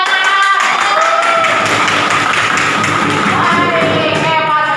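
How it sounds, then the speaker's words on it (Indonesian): Audience of students in a classroom clapping hands, loud dense continuous applause with quick overlapping claps throughout, recorded close. "Tepuk tangan."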